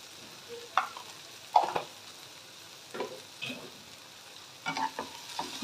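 Lady finger (okra) frying in a pan with salt and turmeric while being stirred, giving sparse scraping bursts over a faint, low sizzle, with no voices.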